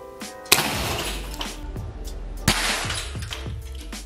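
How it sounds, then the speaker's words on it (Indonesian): A sharp air rifle shot cracks and a glass bottle bursts apart, followed by tinkling shards; a second sharp crack and shatter comes about two seconds later. "satu kali percobaan tembakan langsung hancur lebur botol kaca"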